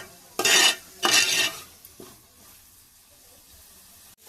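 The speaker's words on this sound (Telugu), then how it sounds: "దగ్గర వచ్చేంత వరకు నూనె బయటికి వదులుతుంది అన్నమాట" Mushroom curry masala fries in oil in a pan, with two loud scraping stirs near the start, then a low, steady sizzle.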